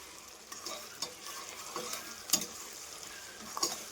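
Onions and ginger-garlic paste fry softly in a pressure cooker pot, a low sizzle broken by intermittent stirring scrapes and a few sharper clinks of a spoon against the metal.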